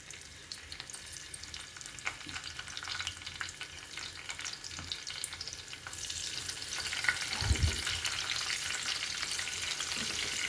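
Curry leaves frying in oil in a pan with softened green chillies, a fish curry in progress, giving a steady crackling sizzle with scattered pops and a louder burst midway, no voices.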